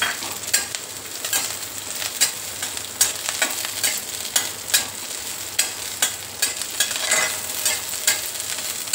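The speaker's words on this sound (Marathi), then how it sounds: "तेल गरम झालं की आपण ह्याच्यात ह्या मिरच्या घालून घेऊया। हे छान परतून घेऊ।" Chilies fry in peanut oil in a wok, hissing steadily while a utensil stirs them, with regular scraping taps and bursts of sizzle close by and no talking.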